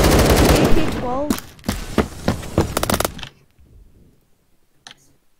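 An AK-12 rifle fires in Roblox Phantom Forces, with rapid bursts of close, loud gunshots and a few spaced single shots, then a faint click after the firing stops.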